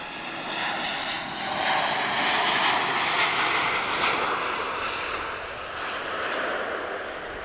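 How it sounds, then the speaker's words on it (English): A Lockheed C-130 turboprop flying circuits near Lisbon Airport, its steady droning engine roar swelling slightly then holding, loud and unbroken with no talk. "Guys, I can see a C-130."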